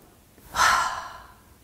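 A single deep yoga breath, a soft airy rush that swells quickly and then fades slowly, close and alone with no talking.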